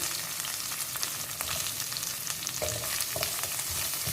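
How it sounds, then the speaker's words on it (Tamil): Chopped onion and curry leaves sautéing in a pan for a brinjal tamarind thokku: a loud, continuous close sizzle with occasional scraping strokes of a spatula. "இது நல்லா நம்ம ப்ரௌன் ஆகிற வரைக்கும் நல்லா வதக்கிக்கணும்"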